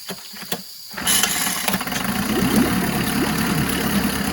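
A rebuilt Mercury two-stroke outboard, 7.5 or 9.8 HP with new crank seals and bearings, catches after a brief crank and settles into a loud, steady, buzzing idle up close.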